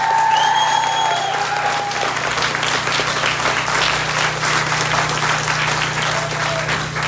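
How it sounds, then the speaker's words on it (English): Sustained audience applause from a crowd at an outdoor charity walk, a dense, steady wash of clapping that stays loud throughout, with a faint tone and some distant voices underneath. "let's give them another round of applause"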